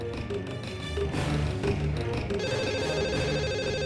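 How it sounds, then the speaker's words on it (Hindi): A telephone rings steadily at moderate volume, its repeating electronic tone layered over background music or noise. "phone phone phone"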